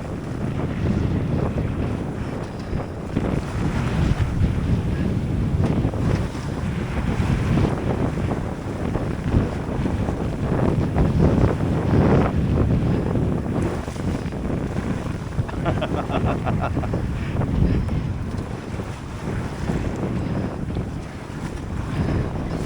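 Wind roaring steadily across a sailboat at sea, heavy microphone buffeting mixed with rushing water and wave noise, loud and continuous throughout with no clear talk.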